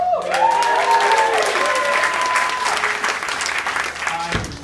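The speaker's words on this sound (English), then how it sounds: "Give a round of applause for yourself." A comedy club audience gives a round of applause, loud and close, with whoops and cheering voices over the clapping, which carries on steadily before a brief dip at the end.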